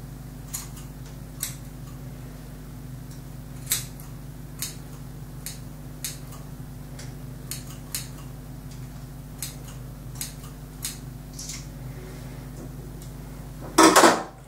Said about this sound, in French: je vais couper droit tout simplement